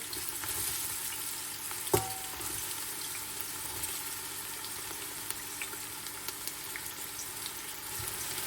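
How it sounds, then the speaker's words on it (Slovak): Chopped onion sizzles steadily in hot rapeseed oil in a pot, a continuous close frying hiss with one brief clink near the start and no talking. "Keď bol olej dostatočne horúci, pridal som do hrnca nakrájanú cibuľu."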